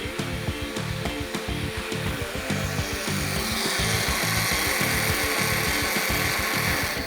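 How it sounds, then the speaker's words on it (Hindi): A kitchen blender runs steadily, whirring and churning thick batter with a loud, continuous motor drone and rhythmic pulsing. "बस थोड़ा सा और, फिर हम ब्लेंडर बंद कर देंगे।"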